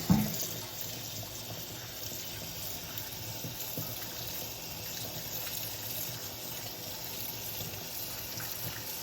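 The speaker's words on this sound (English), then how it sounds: "washing them, rinsing them thoroughly, rinsing off the salt and the vinegar that they've been soaking in" Steady, moderately loud running water from a tap pours over collard greens being rinsed clean of their salt-and-vinegar soak, a continuous even wash with no voices.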